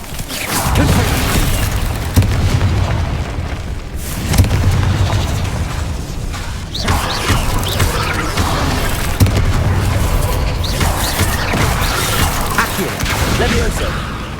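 Fiery Confringo spell explosions in Hogwarts Legacy during a fight with spiders, loud booming bursts and crashing impacts recurring over a steady, dense bed of game music and combat noise, with shouted spell calls in between.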